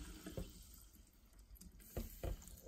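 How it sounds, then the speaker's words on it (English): Kirkland Italian sparkling mineral water poured into a container, quiet splashing and bubbling with a few louder gushes near the start and end. "Let's pour some water in."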